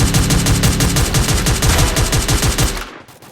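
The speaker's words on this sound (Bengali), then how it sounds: "এরে নক দেওয়ার পর উপর থেকে ফায়ার আসে" Gunfire rains down from above in a battle royale mobile game, a loud rapid automatic burst of evenly spaced shots that runs for nearly three seconds before cutting off into near silence.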